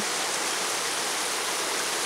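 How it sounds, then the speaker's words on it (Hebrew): Clear water stream in a remote Japanese nature reserve in late autumn flows in a steady, dense rushing wash, even and continuous throughout with no other sounds standing out. "פלגי מים צלולים"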